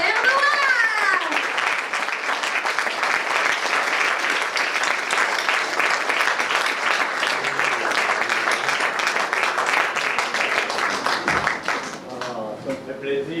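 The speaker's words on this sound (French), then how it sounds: "Mesdames et messieurs, applaudissez bien encore Robert Noir!" An audience at a school show applauds an award recipient, a sustained wash of many hands clapping with children's voices and cheers mixed in, thinning out near the end as talk emerges.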